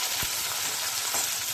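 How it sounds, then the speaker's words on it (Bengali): Sliced onion added to potatoes in hot oil in a pan sizzles steadily and loudly, a continuous hiss with faint stirring scrapes and no voices. "এবার এর মধ্যে দিয়ে দিলাম পেঁয়াজটা দিয়েও একটু ভাজা ভাজা করবো"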